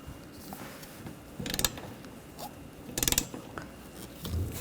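A ratchet tightens nuts on the wiper arms of a 2013–2019 Ford Escape 2.0L, giving two close bursts of rapid clicking pawl strokes with quieter handling noise between them and no talking.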